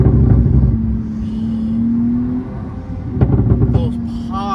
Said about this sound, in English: Those pops sound so good